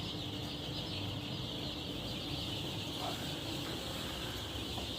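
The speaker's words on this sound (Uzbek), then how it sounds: "Andijon qora jo'jalarimiz" Andijan black chicks about a week old, a dense steady wash of many small birds chirping and peeping together at close range, continuous and fairly quiet without any pauses.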